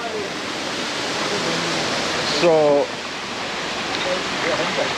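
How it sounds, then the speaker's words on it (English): A spring-fed stream runs steadily in Spili, Crete, producing a broad, continuous rush of flowing water close by. A short voice briefly rises over it partway through. "There is something magical in the stream of this water."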